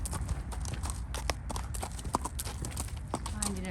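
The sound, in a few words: horse hooves walking during groundwork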